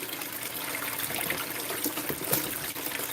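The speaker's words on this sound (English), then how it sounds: "wash the rest of the material out of my pan and into the box" Water washes gold concentrate out of a gold pan into a sluice box, a steady close splashing and trickling pour that runs loud throughout, with no talking.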